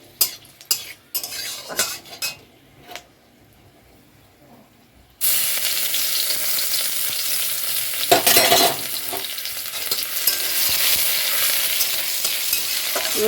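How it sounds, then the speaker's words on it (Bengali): Dried red chillies hit hot oil in a wok, and a loud steady sizzle starts suddenly and keeps going. A spatula stirs and scrapes close by, after softer clinks and handling noises. "তেলটা গরম হয়ে গেলে দিয়ে দিলাম হচ্ছে শুকনো লঙ্কা"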